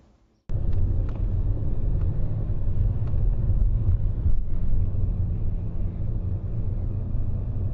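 A car drives toward the city, its engine and road rumble starting abruptly and holding steady and fairly loud throughout, with no talk.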